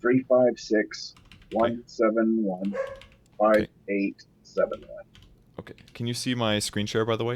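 Computer keyboard keys clatter in quick, uneven bursts as a match ID is typed in, running close and clear beneath a man reading out numbers.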